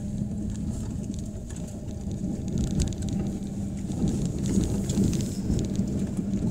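Steady rain falls continuously with a low rumble of thunder underneath, a dense, even wash of sound throughout with no voices.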